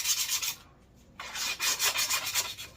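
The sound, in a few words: sanding a wooden hammer handle with sandpaper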